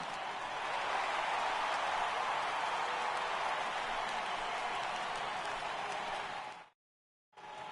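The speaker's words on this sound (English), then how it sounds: "this home crowd likely to give him a standing O as he departs with the shutout in check" Home crowd applause in a baseball video game, a steady broad wash of clapping and cheering that holds loud for several seconds, then cuts out briefly before resuming.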